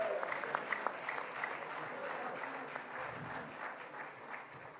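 A crowd at a political address applauds in a steady, even wash of clapping that continues without a break, heard from a moderate distance.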